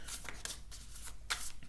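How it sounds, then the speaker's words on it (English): Deck of tarot cards being shuffled by hand, several quick riffling bursts in close succession, crisp and near, with no speech. "let me shuffle these cards real good"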